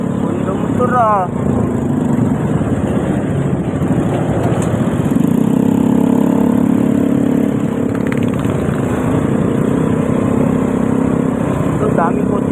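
A Yamaha Mio motorcycle engine idles and revs nearby, a steady low rumble running throughout, with people talking over it.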